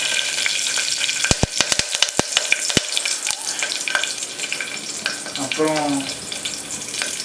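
Green chillies, bay leaf and spices drop into hot sesame oil for a mutton kuzhambu, first with sharp clicks and taps, then a growing close sizzle and stirring, while a voice talks briefly.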